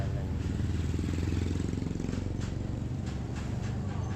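Motorcycle engine running rough and misfiring on a harvest delivery ride, a steady close engine drone with uneven stutters and occasional sharp clatter throughout.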